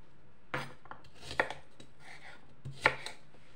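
Knife chops an apple on a cutting board: a few sharp, separate thuds spaced about a second apart, close by, with no talking.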